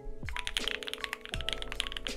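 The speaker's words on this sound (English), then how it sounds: "Mechanical keyboards have individual mechanical switches under each keycap" Rapid clicking keystrokes from a mechanical keyboard with individual switches under each keycap, close and steady with a few heavier thunks, no voices.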